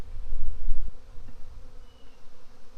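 Honeybees hum and buzz as a beehive is opened, a close, fluctuating drone with a brief low thump of hive handling near the start.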